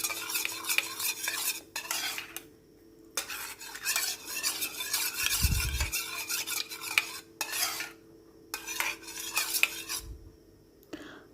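Pudding batter with margarine and egg yolk being stirred in a bowl: bursts of scraping and whisking strokes separated by short pauses, close and fairly quiet, with a couple of soft bumps and no voices.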